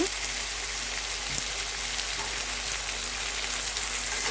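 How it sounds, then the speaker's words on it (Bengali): Curry frying in oil in a pan with steady, close sizzling that holds evenly throughout and faint stirring scrapes. "আবার একটু নাড়াচাড়া করে নিচ্ছি"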